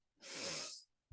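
A single forceful sneeze, close and sharp with a breathy burst, followed by a brief low thump.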